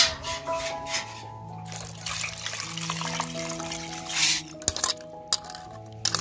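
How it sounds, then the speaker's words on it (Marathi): Raw chicken pieces being washed by hand in water, with splashing, squishing and occasional clinks of a bowl, irregular and close, over a steady musical background. "आणि आता हे स्वच्छ करून घेते ना? मी आधी धुवून घेते।"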